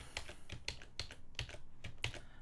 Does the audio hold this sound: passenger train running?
no